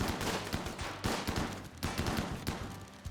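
Turret gunfire in the video game Rimworld comes as rapid bursts of shots in rhythmic volleys, repeating roughly every half second over a dense, continuous battle din.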